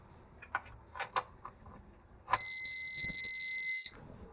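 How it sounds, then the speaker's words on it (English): A few soft clicks, then a single loud, steady electronic beep from a faulty Lyman 1200 digital powder scale on power-up holds about a second and a half before cutting off abruptly, leaving quiet. "It beeps and it switches straight off."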